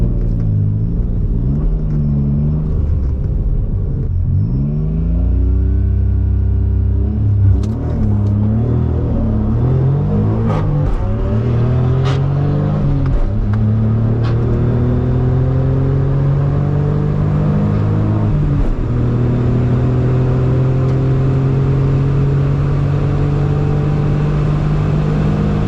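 A Suzuki Cappuccino kei car races on a track, its small engine revving loudly through repeated rising and falling gear pulls, with a steady rumble and climbing pitch sweeps as it accelerates.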